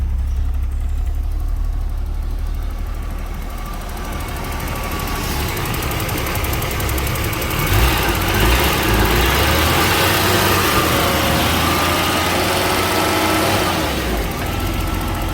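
An old engine idles steadily after a quarter hour of running, a close, even low rumble with slight ticking texture and no voices.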